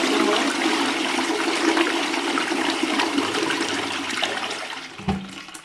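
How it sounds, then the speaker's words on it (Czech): A household toilet flushing with a rushing, gurgling surge of water that holds steady for about five seconds before a brief knock near the end; the toilet had been blocked further down the drain. "A když tady spláchnu, tak ten záchod odteče?"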